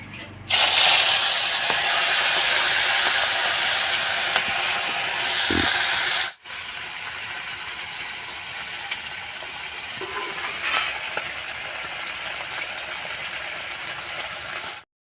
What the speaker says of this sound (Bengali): সাদা তেলটা গরম হয়ে গেছে এবার মোরলা মাছটা ভেজে নেব